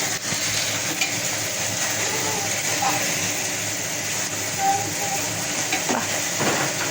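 Masala spice paste frying in oil in a pan, making a dense, continuous sizzle with occasional stirring scrapes, heard close up beneath a voice talking.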